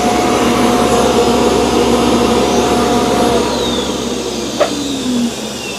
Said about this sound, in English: So the X10 is emptying its dustbin.